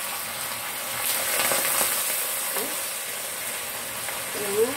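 Pandan chicken fries in hot oil with a steady crackling sizzle, swelling slightly midway and ending with a sharp pop, heard up close in a home kitchen.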